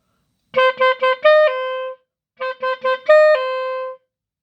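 A song's first verse played on a clarinet: two matching phrases, each of three quick short notes and then a longer held pair, separated by a brief pause, close and solo with no voices.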